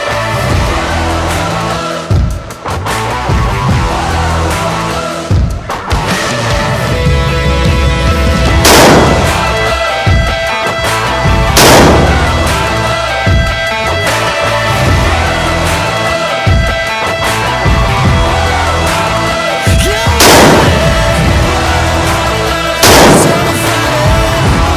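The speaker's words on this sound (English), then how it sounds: "They're training on the M4 rifle." Repeated single rifle shots from M4 carbines at a military training range ring out loud and close, spaced several seconds apart over steady outdoor background noise.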